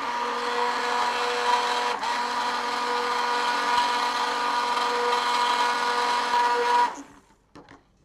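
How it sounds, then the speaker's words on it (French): A blender whirs steadily, mixing mascarpone cream with warm gelled milk for a pistachio praline choux filling, a loud even drone for about seven seconds before cutting off abruptly, with faint clatter afterward. "Et je vais mixer."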